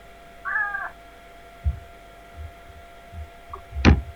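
A 17-year-old cat gives a short wavering meow, then a louder sharp cry near the end, amid quiet background hum and a few soft thumps.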